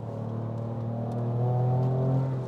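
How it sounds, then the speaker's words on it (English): A 2023 Ford Ranger Raptor in Baja mode rumbles with a low, steady engine and exhaust note that swells louder midway as revs climb, then eases off, heard alone without talk. "The exhaust gets louder."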